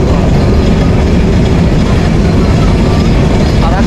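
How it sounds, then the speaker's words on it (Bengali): A railway junction platform where the Rupsha Express stands among crowds waiting to board: a loud, constant low rumble of train and engine noise fills the scene without break. "আমরা এখন রয়েছি ঈশ্বরদী জংশনে।"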